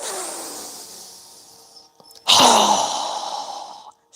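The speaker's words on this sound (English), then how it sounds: "exhale through our mouth with a strong, fast breath as we quickly lower our arms and hands down" Strong, fast exhale through the mouth during a yoga breathing exercise, heard as a breathy rush that fades, then a second louder forceful blow of air, close and alone with no talking.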